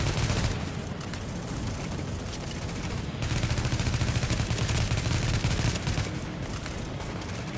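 Rapid SMG and M4 gunfire in the video game The Division; dense, continuous volleys of shots at close range, loud and unbroken across the whole stretch.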